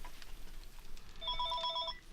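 A telephone rings faintly in 7 Days to Die, one short electronic ring over low ambient game noise and no talk, coming in partway through.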